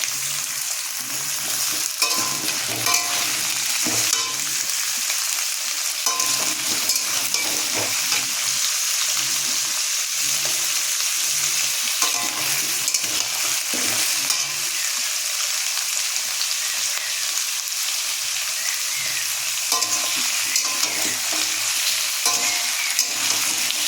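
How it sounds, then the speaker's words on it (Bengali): Onion and potato fry in oil for a chicken curry, a continuous close sizzle broken by regular scraping and stirring sounds throughout. "পেঁয়াজ আলু কষানো হচ্ছে, ভাজা হচ্ছে, এখনও মশলা দেয়নি।"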